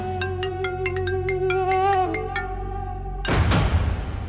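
A mobile phone ringtone in a Hindi TV comedy serial plays a quick run of repeated melodic beeps that glide into a sustained tone, then cuts off into a short burst of rustling noise.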